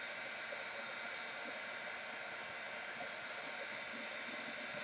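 A heat tool blows a steady, faint hot-air hiss without a break while it melts embossing powder on a handmade card.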